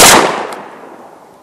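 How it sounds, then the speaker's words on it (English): A single loud, close blast from a Panzer BP-12 12 gauge bullpup shotgun firing Wolf double-aught nine-pellet buckshot at an outdoor range, with a sharp crack decaying into a fading echo. "we got the same the Wolf double-aught buck 9-pellet Panzer BP-12 12 gauge bullpup."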